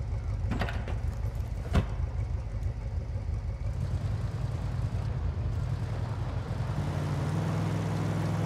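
A vehicle in the video game Ghost Recon Wildlands idles with a steady low engine rumble after a couple of sharp clicks, then shifts to a rising, steadier drone near the end as it pulls away.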